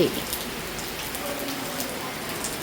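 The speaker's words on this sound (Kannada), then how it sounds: "ನಮ್ಮೂರಲ್ಲಿ ಮಳೆ ಬಿಡ್ತಾ ಇಲ್ಲ ಬೆನ್ ಬಿಡದ ಮಳೆ" Steady rain patters on a surface, a dense even hiss of drops close by for a few seconds.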